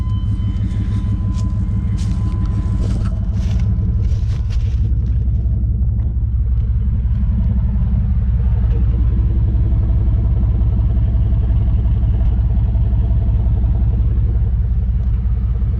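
A work pickup truck engine idles steadily and close, a deep continuous rumble after some brief higher clatter at the start.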